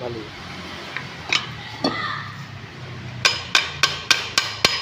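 A hammer drives a part into a Kijang car transmission, with a few scattered knocks and then six sharp, evenly spaced metallic blows, while people talk nearby.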